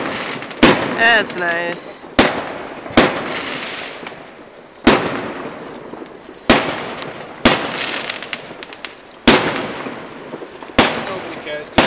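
Bonfire Night fireworks bursting outdoors, a series of sharp loud bangs and crackles spaced every second or so across the clip, with people chatting and exclaiming between the blasts.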